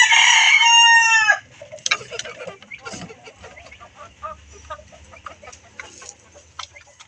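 Young pullet hens that have not yet laid, with a loud close rooster-like crow at the start followed by scattered soft clucks and chatter from the flock, moderately near and fairly quiet.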